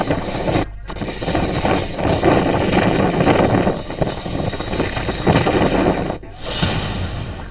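A rescue helicopter flying during Cyclone Tauktae in Gujarat gives a loud, continuous rotor and engine roar with a steady pulsing thrum, filling the whole stretch and briefly cutting out twice.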